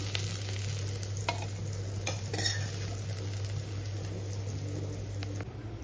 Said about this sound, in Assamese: আৰু হৈ গ'ল মোৰ লেটা ভাজি